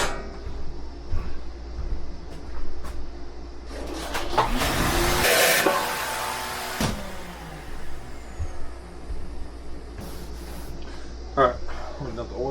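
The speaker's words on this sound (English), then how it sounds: "well, actually I'm going to vacuum this out one more time" A vacuum cleaner runs briefly inside a BBQ food truck during cleanup: a loud, steady whooshing roar for a couple of seconds amid clattering and background hum, with someone talking nearby.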